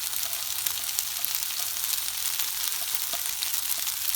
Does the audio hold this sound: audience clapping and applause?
no